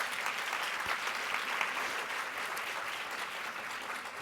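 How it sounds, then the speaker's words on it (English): Symposium audience at a global health event applauding partner organisations, a soft, steady, fairly distant patter of many hands clapping that fades slightly toward the end. "A big round of applause for all of our partners."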